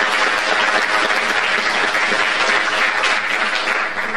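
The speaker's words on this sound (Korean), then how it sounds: "모두 큰 박수 부탁드리겠습니다" A large crowd applauds at a girls' high school entrance ceremony, a loud, dense, unbroken wash of clapping lasting the whole stretch with no talk.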